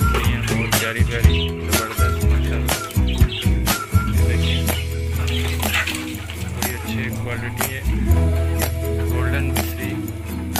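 Chickens of the Golden Misri breed and their chicks chirp and cluck in a busy mix, with loud low music and a background voice running throughout.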